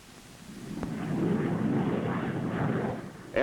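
A late-1960s military aircraft taking off to deliver battlefield sensors, a broad rumbling roar swelling over a few seconds and holding steady, with a brief sharp click early on.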